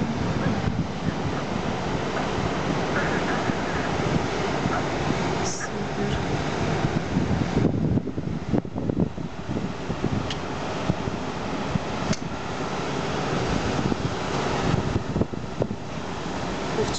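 Stormy surf and gusting wind along the Malecon seafront in Havana, a steady, loud, continuous roar of breaking waves with wind buffeting the microphone throughout.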